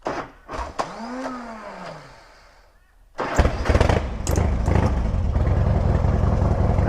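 A Harley motorcycle, left unstarted for a few days, is cranked and fires up, then settles into a loud, steady idle rumble close by after a quieter stretch of handling noises.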